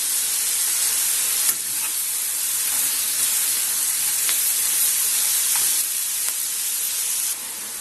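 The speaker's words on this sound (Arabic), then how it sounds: "بعد ما ريحه الثوم طلعت معانا هنقلبها كلها في بعضها" Liver with garlic fries and is stirred in a pan, giving a steady close sizzle and hiss with a few scraping stir strokes through it, and no voices.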